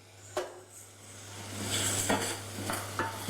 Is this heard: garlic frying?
yes